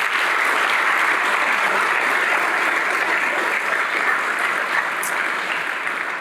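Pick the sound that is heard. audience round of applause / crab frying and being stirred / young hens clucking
audience round of applause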